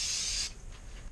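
Oil spray mists over croutons in an air fryer basket, a close half-second hiss that stops, followed by a brief sharp click or clatter at the end.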